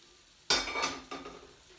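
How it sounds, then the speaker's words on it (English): Oil and garlic hit a pan of kale with a sudden, close burst of sizzling that quickly settles into a softer crackle, with a light clatter of a utensil on the pan. "I'm going to go ahead and put the oil and the garlic in with the kale."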